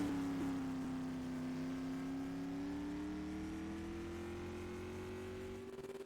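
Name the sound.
sprint car engine on Oswego Speedway track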